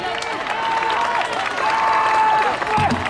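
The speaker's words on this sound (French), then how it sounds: "Allez mesdames, messieurs, tout le monde applaudit les coureurs." Spectators at a cadet madison track cycling race clap and cheer for the riders in a continuous burst of applause while an announcer's voice rings out over the crowd.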